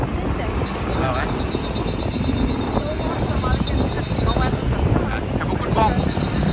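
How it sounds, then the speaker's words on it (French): Strong wind buffets outdoors at Pattaya, a loud continuous rushing roar with gusty swells, while people talk beneath it. "Il y a beaucoup de vent."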